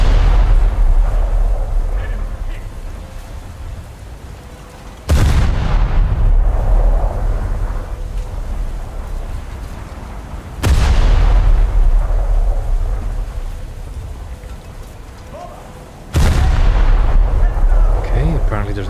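Heavy naval guns fire in a warship video game: three loud, booming salvos spaced about five seconds apart, each followed by a long rumbling decay.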